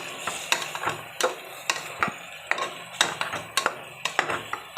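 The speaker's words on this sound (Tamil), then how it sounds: "நல்லா வதக்கி விட்டுக்கலாம்." Tomato for veg kurma is stirred and sautéed in a pan, a spoon scraping and tapping in a steady rhythm over a soft sizzle, close and fairly loud, with no talk.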